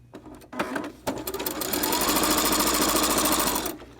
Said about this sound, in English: I am going to just sew down and around the 3 sides